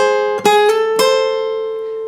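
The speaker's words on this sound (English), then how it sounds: "you're starting by hammering on" Acoustic guitar phrase from a song: a few quickly picked and hammered-on notes close up on the upper strings, ending in a clear ringing note that sustains and fades.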